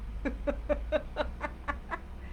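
Birds eating a dog's food outdoors give a steady run of about nine short, evenly spaced clucking calls, close and moderately loud over a low background hum.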